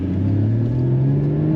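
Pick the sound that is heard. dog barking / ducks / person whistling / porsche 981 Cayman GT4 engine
porsche 981 Cayman GT4 engine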